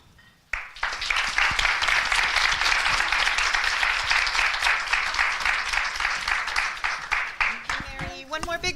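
After a quiet opening, an audience bursts into sustained, loud applause for a speaker, with some voices faintly mixed in, and a voice begins speaking as the clapping tapers off at the end.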